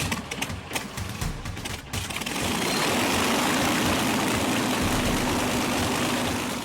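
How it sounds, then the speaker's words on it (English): Four Rolls-Royce Merlin engines of a Lancaster bomber running, a dense, steady roar swelling up after a rougher start and holding loud and constant close by. "4 Rolls-Royce Merlin engines."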